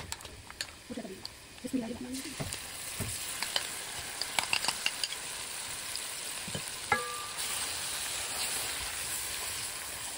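Spices frying in mustard oil in a pan, with crackling sizzle and occasional stirring scrapes, a steady hiss running beneath, faint birds in the background and brief voices early on.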